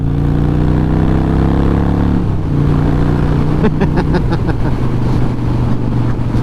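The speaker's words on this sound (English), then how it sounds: "let's ride the old Harley here, get her hopping down the road" An old Harley-Davidson Sportster 1200C motorcycle engine rumbles steadily with deep low throbbing, shifting pitch as it rides along, with wind rushing over it.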